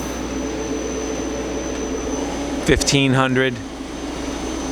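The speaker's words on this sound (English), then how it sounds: "Now the sub spindle, that's 500" Sub spindle of a Miyano BNE-46S CNC turning center with Fanuc 18T control running at speed: a steady mechanical hum with a thin high whine throughout, with someone speaking briefly over it.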